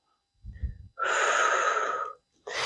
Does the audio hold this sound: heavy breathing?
yes